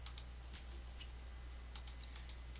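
Calculator keys being pressed to enter numbers: a few quick, light clicks near the start and a tighter cluster of taps toward the end, each crisp and close over a steady low hum, with no voices.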